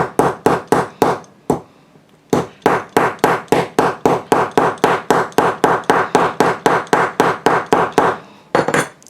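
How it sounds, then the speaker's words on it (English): A hammer strikes a metal cutter over and over to punch through handbag material, sharp loud blows at a quick even rhythm, interrupted by one brief pause and ending with a final pair of hits. "I'm just going to hammer it."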